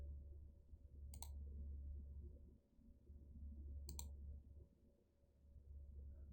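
A computer mouse gives two sharp, isolated clicks a few seconds apart, faint above a low steady room hum.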